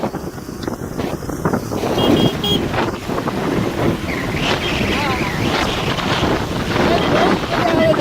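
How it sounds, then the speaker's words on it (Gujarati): Vehicles drive through a flooded road during monsoon rain, spraying water in a steady, continuous rushing wash with wind buffeting the microphone. A voice talks briefly near the start. "ગાડીવાળા પાણી બધા ઉડાડતા જાય છે."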